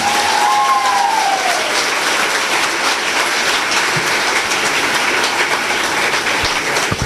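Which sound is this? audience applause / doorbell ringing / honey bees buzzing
audience applause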